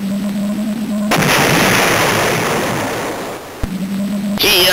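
Gunfire in Cannon Fodder on the Game Boy Color, a harsh noisy burst of chiptune shooting lasting a couple of seconds between steady tonal game sounds, loud and with no talk.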